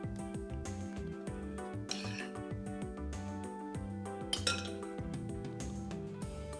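Small metal spoon clinking against a dish while stuffing poblano peppers in a kitchen, a close, irregular series of light taps and scrapes with a few brighter clinks.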